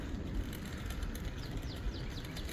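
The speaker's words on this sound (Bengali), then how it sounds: "পাখির অনেক কিচিমিচি শোনা যায়" Small birds chirp faintly in the morning outdoors, with scattered high tweets rising over a steady background hiss, especially in the second half.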